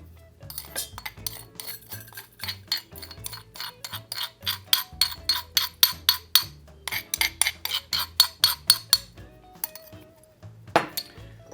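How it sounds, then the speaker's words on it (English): A small metal spoon tapping and scraping against a bowl while ground spice for a Cajun BBQ rub is scooped in, a quick run of light clinks in an uneven rhythm, close and fairly quiet, ending on one brighter knock. "I'm gonna grab this little spoon here, and we're going to put it in this bowl"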